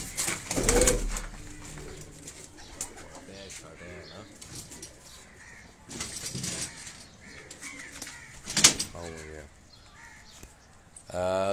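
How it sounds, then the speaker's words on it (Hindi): High-flying Kabuli pigeons coo softly in bursts with occasional wing flaps and rustling, while a person talks intermittently nearby. "ये कुछ चंद कबूतर हैं उस्ताद अब्दुल बासित भाई के।"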